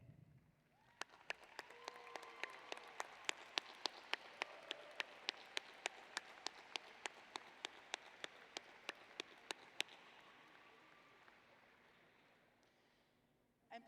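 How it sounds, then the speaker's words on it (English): A graduating class at the Florida State University College of Law ceremony gives a long, steady round of applause in a large hall. A few sharp, close claps stand out before the applause slowly fades. "Graduating students, please stand and provide a round of applause as a thank you to your family, friends, and other loved ones who have joined us today."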